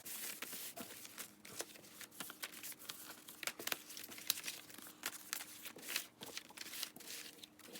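Close crinkly riffling and flicking of cards being shuffled, in irregular bursts with no talking.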